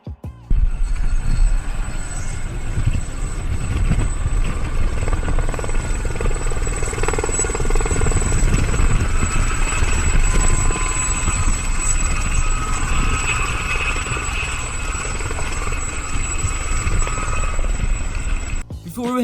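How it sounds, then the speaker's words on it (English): A helicopter flown by a French pilot drones steadily for nearly twenty seconds, its loud continuous rotor and turbine roar holding nearly constant with a high whine, while a voice is faintly heard talking over it. "And this is a very skilled French helicopter pilot."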